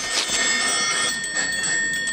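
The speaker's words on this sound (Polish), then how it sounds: "Cykliści obudzili dzwonkami rowerowymi śpiącą na ławeczce młodą damę wiosnę." Bicycle bells are rung by a group of cyclists at an outdoor spring gathering, bright sustained metallic rings layered over steady crowd and street noise, close and fairly loud.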